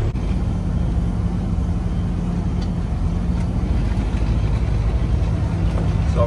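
A pickup truck with a gooseneck trailer hitch setup idles and begins rolling out of a driveway, its steady low engine rumble loud and constant throughout with no speech.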